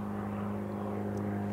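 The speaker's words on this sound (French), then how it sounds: "Un avion. Un petit avion." A small propeller airplane flying overhead gives a steady, droning engine hum with a constant pitch, moderately loud and unbroken throughout.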